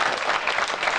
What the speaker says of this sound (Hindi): एक बार इस पर तालियां बजनी चाहिए आपकी।